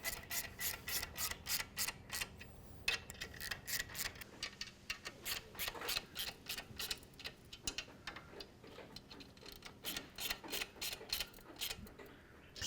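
Rapid ratchet clicking in repeated bursts as nuts are snugged onto studs while installing a turbo kit on a Harley-Davidson Sportster, close and steady with short pauses between runs.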